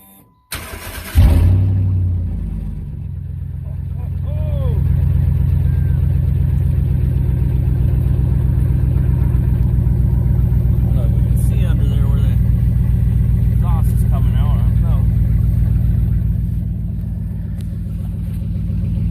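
Truck engine with a busted exhaust that dumps out underneath and a broken gas strap, cranking and catching after a brief pause, then idling loud and close with a steady low rumble and a few small throttle changes.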